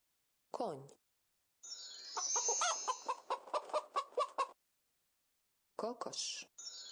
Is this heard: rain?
no